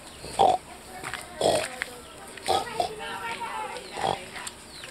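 Pig grunts at bath time on a farm, four or five short bursts spaced about a second apart, moderately close, with people talking faintly in the background.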